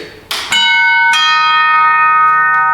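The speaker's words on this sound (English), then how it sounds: "I don't actually have to press the doorbell, I can run a script." A doorbell triggered by a script chimes loud and close, two bright ding-dong tones ringing out and lingering as they slowly fade, after a brief click.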